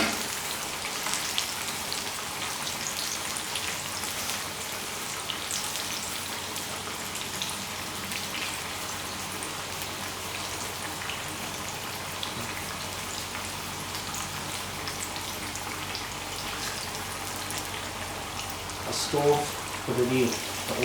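Flour-battered chicken pieces frying in hot oil in a wok, a steady crackling sizzle like light rain that holds at an even level, with speech over it.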